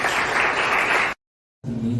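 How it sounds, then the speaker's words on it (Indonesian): Loud burst of applause from a group clapping together in a classroom, cutting off abruptly, then resuming briefly. "tepuk tangan buat kita semua dong"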